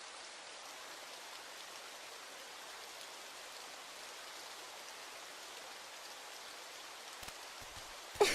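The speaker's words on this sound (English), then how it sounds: "It's finally raining." Steady rain falling outside a temple, an even broadband hiss that holds for the whole stretch, with a couple of faint knocks near the end.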